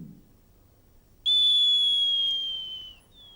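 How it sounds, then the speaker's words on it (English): Breathing apparatus signal whistle going off as cylinder pressure drops while air is let out, a sudden loud, steady high-pitched tone that holds for nearly two seconds and then cuts off, close by and alone. "Somewhere between 60 and 50 bar, the signal whistle should sound."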